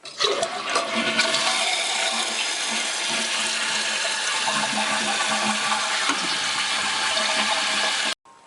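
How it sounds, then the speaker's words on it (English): Toilet fitted with a new flapper flush valve flushing: a loud, steady rush of water that runs for about eight seconds and then cuts off abruptly. "Now test the new flush valve to make sure it's fully flushing and sealing."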